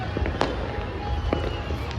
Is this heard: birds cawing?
no